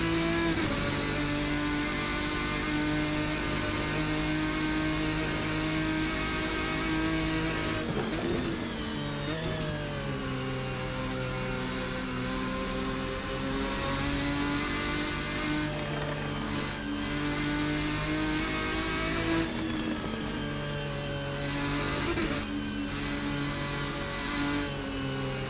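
Race car engines rev and shift through gears in a racing series, a continuous droning whine whose pitch steps down at each change, with faint tyre and mechanical noise underneath and no talk.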